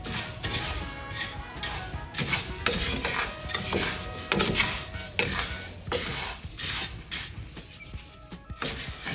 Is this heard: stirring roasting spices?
yes